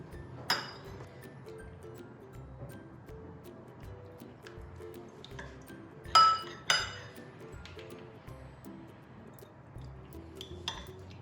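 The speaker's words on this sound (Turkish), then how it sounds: "Bir yemek kaşığı pekmez alıyorum bir kasenin içine." A tablespoon clinks against a bowl holding molasses, with a few sharp separate clinks over a quiet background and soft sticky handling noises in between.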